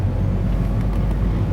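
A cold car engine hums with a deep, steady low rumble from inside the vehicle, with a slight rise in pitch but no sharp revving.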